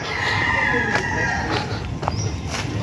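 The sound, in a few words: chickens clucking and a rooster crowing on a farm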